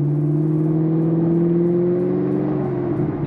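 A Chevrolet Camaro on springs pulling away, its engine droning with a steady low hum that rises slightly as it accelerates, close and continuous throughout.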